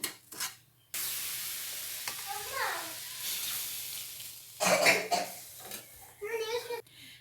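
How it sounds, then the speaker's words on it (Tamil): Semolina dry-roasting in a pan for rava payasam, stirred with soft scraping and light sizzling, while voices talk intermittently over it, including a child's. "நல்லா வறுத்துக்கோங்க. கலர் சேஞ்ச் ஆகக்கூடாது, பட் நல்லா வறுத்துக்கணும்."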